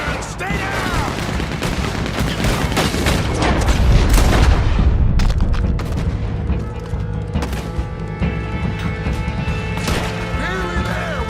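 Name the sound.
Gatling gun firing in the video game Red Dead Redemption 2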